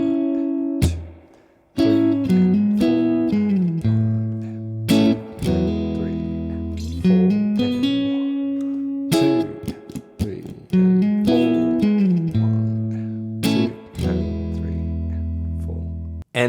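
Electric guitar plays the intro line of a song, with sustained clean chords and melodic fills in a steady slow groove, a few brief pauses between phrases, alone without talk.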